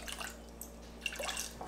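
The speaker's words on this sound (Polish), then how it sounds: "dosłownie ociupinka wody" A small splash of water is poured onto erythritol to make a sugar-free syrup. It comes as a faint, brief trickle and a couple of soft drips in a quiet kitchen.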